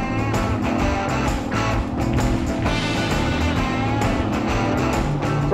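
A two-stroke boat engine runs at set RPM steps, a loud buzzy drone with a rough rhythmic pulse that rises slightly in pitch partway through.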